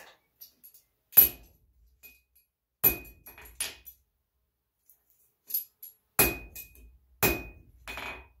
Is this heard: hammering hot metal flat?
yes